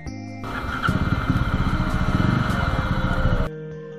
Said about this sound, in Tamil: ஸோ என்ஜினோட சவுண்டு வந்து ரொம்பவே நல்லாயிருக்கு.